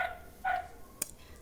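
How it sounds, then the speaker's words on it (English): Dogs bark somewhere in a residential neighbourhood, two or three faint, distant barks spaced apart with no one talking. "Forgive the dogs in my hood."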